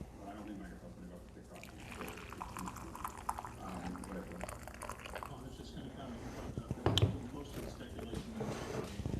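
Freshly pressed coffee poured from a press into a cup, a soft sloshing, trickling stream that rises and falls over several seconds, with a brief clink near the end.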